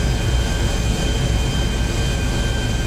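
Jet flying in the Grand Theft Auto V video game, a steady loud roar of engine noise with a low rumbling body, constant and close throughout, no talk.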